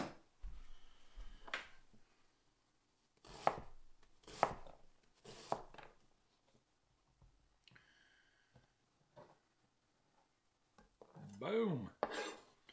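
Carrots are sliced with a knife on a cutting board in a home kitchen: a few sharp, close chopping strokes come in separate clusters with quiet gaps, ending in a brief scraping shuffle across the board.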